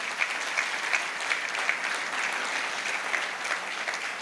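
Church congregation applauding during a sermon service, with steady dense clapping from many hands filling the room throughout, moderately loud and without a break.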